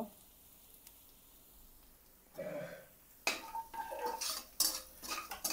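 Capsicum goes into a pan of browned frying onions with a clatter of utensil on metal, followed by repeated scraping stir strokes and a soft sizzle, fairly close and with no talking.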